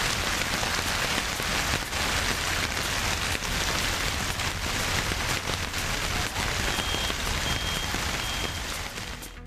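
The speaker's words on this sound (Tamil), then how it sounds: "நெல்லையில் பாளையங்கோட்டை மார்க்கெட், சமாதானபுரம், தெற்கு பஜார் உள்ளிட்ட பகுதிகளில் மழை பெய்தது." Steady, dense rain falls across Tirunelveli in Tamil Nadu, a continuous loud hiss of drops on surfaces filling the whole stretch with no voices.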